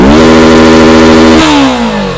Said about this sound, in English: that's bouncing off the rev limiter right now